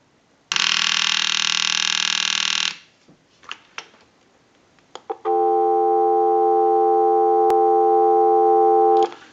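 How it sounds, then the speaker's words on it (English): After a final ring and a few clicks, a steady dial tone starts on an Ericofon North Electric telephone and holds, loud and continuous, to the end. "we'll give you some dial tone"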